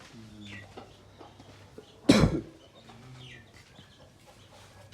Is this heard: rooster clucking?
yes